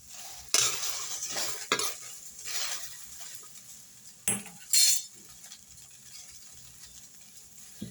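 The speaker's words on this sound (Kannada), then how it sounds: "ಇವಾಗ ಹೆಚ್ಚಿರೋ ಬೆಂಡೆಕಾಯಿನ ಹಾಕ್ಕೊಳ್ತಾ ಇದ್ದೀನಿ ಫ್ರೈ ಮಾಡ್ಕೊಳ್ಳೋದಕ್ಕೆ." Chopped okra dry-fries in a pan, a soft crackle broken by a few loud clattering bursts as the pieces are tossed and stirred, then settling to a quiet hiss.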